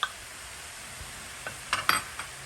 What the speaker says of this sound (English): Now we put the garlic and the shallot. And we saute this together.